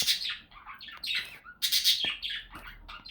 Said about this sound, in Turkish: Bizim evde 4 tane kuş var.